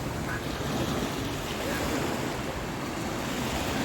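Big ocean waves wash onto a shore in a steady, close roar of surf mixed with wind rumble, continuous and fairly loud with no talking.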